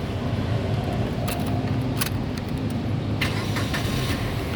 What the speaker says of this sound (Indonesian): sekarang kita coba nyalakan mobil